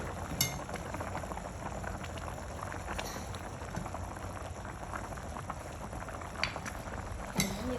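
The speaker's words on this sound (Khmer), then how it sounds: "វាពុះហើយបងប្អូន" Khmer pickled bamboo shoot soup broth boiling in a pot, a steady low bubbling and simmering hiss with a few faint clinks, fairly quiet and close.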